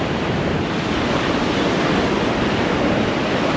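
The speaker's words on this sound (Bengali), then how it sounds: "এই দিকটাতে প্রচুর করে ঢেউ।" Surf at Puri beach, a constant dense roar of breaking sea waves with no break in the noise, close and loud throughout.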